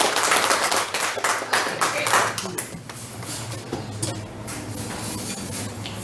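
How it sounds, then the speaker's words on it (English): A small café crowd applauds four performers, loud close clapping with distinct individual claps in bursts, tapering over several seconds as voices and room chatter come through. "So huge round of applause for the four"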